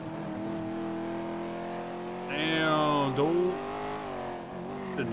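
A Dodge Hellcat with no turbo, driven in the NoPixel game, hums along with a steady engine tone. Midway it revs up sharply into a higher, louder whine, then settles back to a lower cruising drone.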